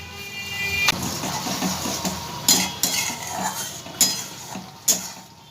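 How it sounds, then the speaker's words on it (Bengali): Spice masala frying in a pan while a metal spoon stirs and scrapes, a steady soft sizzle with several sharper clinks against the pan, no voices. "ভেজে নেবো মশলাটাকে ভালো করে।"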